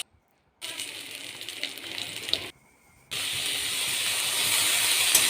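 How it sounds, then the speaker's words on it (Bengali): Fish fries in hot oil in a wok, giving a loud, steady sizzling hiss that starts after a short silence, drops out briefly, and then returns stronger and continuous. "কড়াইতে তেল দিয়ে দিয়েছি। এবার আমি মাছটা ভালো করে ভেজে নেব।"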